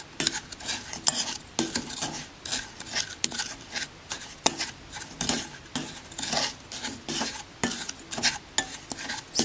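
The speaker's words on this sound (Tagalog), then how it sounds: "huwag nating titigilan ng paghalo dito" Melting sugar for a cheesecake flan is stirred continuously in a pan, with a utensil scraping and clinking against the metal in quick, irregular strokes, close and fairly quiet.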